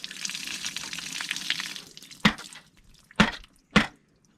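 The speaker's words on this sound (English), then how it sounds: "So there's a little hole here where water's coming out." Water trickles from a bullet hole in a plastic water jug, a soft continuous hiss that gives way to three sharp, close drips spaced about a second apart.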